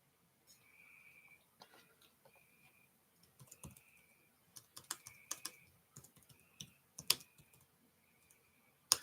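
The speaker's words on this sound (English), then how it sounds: "I'm just typing here." Typing on a computer keyboard: close, quiet bursts of key clicks in uneven runs, some sharper taps standing out, with faint tones between and no voices.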